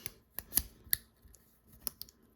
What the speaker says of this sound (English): Let's fold this thing back in.